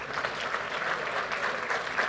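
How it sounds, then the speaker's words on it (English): An audience at a Microsoft Ignite 2016 conference tech session applauds, with steady, dense clapping from many hands throughout at even loudness and no talk over it. "You guys are all clapping, even though you lost"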